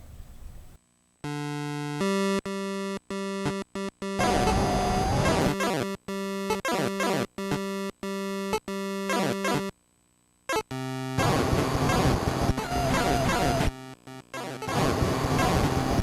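Chiptune music from the NES game Chiller, a loud, continuous run of square-wave melody and bass with abrupt cuts and brief gaps between phrases, playing alone without talk.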